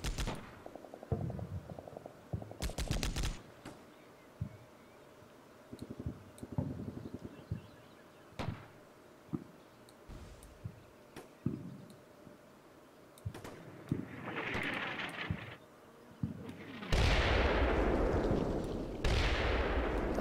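Gunfire in Combat Mission: Shock Force, with scattered sharp shots and short bursts at irregular intervals. The shots grow denser into heavier, louder volleys with booming tails near the end, and no one speaks.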